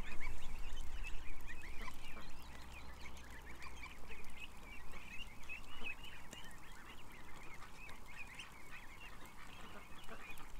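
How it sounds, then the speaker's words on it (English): Geese honk repeatedly in a busy, overlapping flock chorus at moderate distance, with a steady low rumble underneath and no talking. "The geese, they're coming back up."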